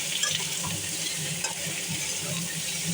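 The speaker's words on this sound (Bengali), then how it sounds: "ডিমটা একটু ভালো করে ভেজে লবণ দিয়ে দিচ্ছি" Eggs frying with potatoes in a pan, a close, steady sizzle with scraping stir strokes and light crackles running throughout, no voices.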